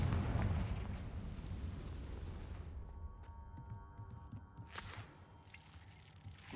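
Confringo blasting spell in Hogwarts Legacy, a heavy rumbling explosion that swells loud at first and slowly fades into a low, lingering roar, with a sharp crackle partway through.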